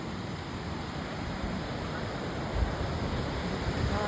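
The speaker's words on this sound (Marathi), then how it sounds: "तुम्हाला आवाज तर येतच असेल पाण्याचा, खूप जोरात आहे आणि चांगला उंचावरून पडतो आहे" Waterfall in a wildlife sanctuary in Goa, falling hard from a good height, heard as a steady, loud broadband roar of rushing water with no breaks, close by and alone.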